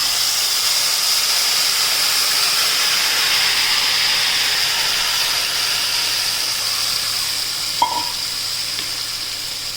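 Tomato puree for an onion-tomato gravy sizzles in hot oil, a loud, steady, close hiss that runs unbroken for the whole stretch.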